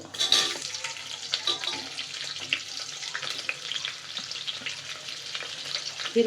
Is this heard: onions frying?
yes